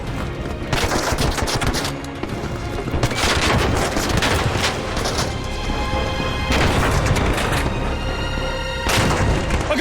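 In the video game ARC Raiders, deadline mines planted on the Queen detonate in a long loud barrage of booming explosions and rapid gunfire-like bursts, dense and continuous with heavy low rumble throughout.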